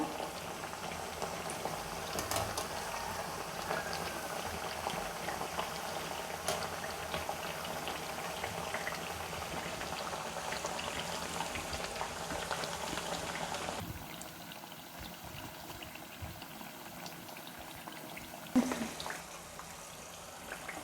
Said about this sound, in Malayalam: ഉള്ളിവടൻ്റെ ഒരു സൈഡ് നന്നായിട്ട് വെന്ത് വന്നിട്ടുണ്ട്. നമുക്ക് മറിച്ചിട്ട് കൊടുക്കുക.